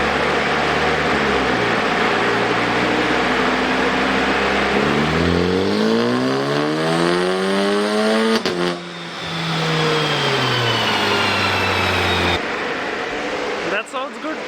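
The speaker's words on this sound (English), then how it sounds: "Let's do a stock dyno run" Turbocharged car on a dyno with a turbo-back exhaust, loud and close: an idle drone builds into a long rising rev sweep, drops off sharply, then climbs again before settling, with a steady fan-like hiss underneath.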